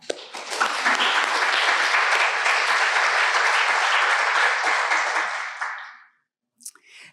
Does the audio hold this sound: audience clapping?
yes